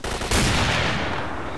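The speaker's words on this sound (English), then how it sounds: "That was a good shot." A single loud gunshot booms in the shooter STALKER, a sudden blast followed by a long rolling echo that fades slowly, with no voices.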